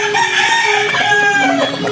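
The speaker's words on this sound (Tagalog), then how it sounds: "Ito ang aking mga manok-nok." Backyard farm chickens crow and cluck close by, a rooster's drawn-out call layered over overlapping hen clucks in a short, busy burst.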